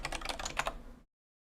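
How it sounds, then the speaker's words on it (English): Typing on a Nyquist NeoKey 5x6 split ortholinear mechanical keyboard, a quick cluster of close, crisp keystrokes lasting about a second, then silence. "Is that a Nyquist keyboard?"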